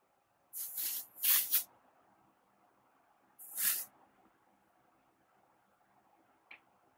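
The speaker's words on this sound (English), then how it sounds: "I'm going to hold it up and spray from up top." Three short hissing bursts of texturizing hair spray, two close together and then one more after a pause, in an otherwise quiet room.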